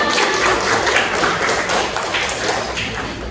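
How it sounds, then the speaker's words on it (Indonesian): Schoolchildren clap together in a classroom, a dense burst of applause that fills the room and holds steady throughout. "Tepuk tangan buat kita semua"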